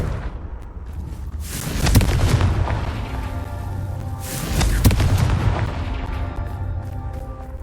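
Confringo fire spell explosions in the video game Hogwarts Legacy: two loud, booming blasts about three seconds apart, each with a sharp crack and a rumbling tail, set over a steady low game ambience.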